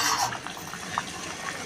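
Water poured from a vessel into a pan of simmering prawn curry made with cashew nuts and onion, giving a steady splashing hiss with a few soft clinks, close and fairly quiet.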